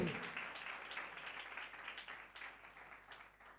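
A church congregation claps for Jesus Christ during a preacher's message, a dense, steady patter of many hands that starts loud and slowly thins out, with no voices over it.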